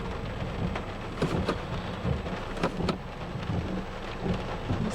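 Steady rain drums on a car's roof and windows with broadband hiss, while heavier drops and low rumbles swell at intervals throughout, with no voices present.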